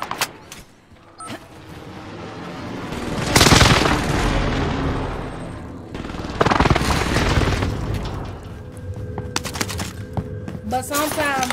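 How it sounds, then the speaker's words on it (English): Precision airstrike explosions in a video game: heavy booming blasts burst loudly around 3.5 and 6.5 seconds amid constant gunfire and battle noise, with sharp crackling impacts trailing near the end. "Enemy precision airstrike"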